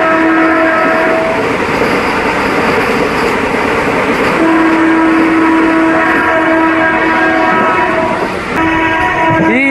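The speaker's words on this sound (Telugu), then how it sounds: "హారం చూసారు కదా ఎలా బాగా చేస్తున్నారు లోకో పైలట్ గారు" Passenger train horn on the Narasapur to Guntur line sounded by the loco pilot, long sustained blasts over loud continuous rumbling and clatter of the moving train, heard close from inside a carriage.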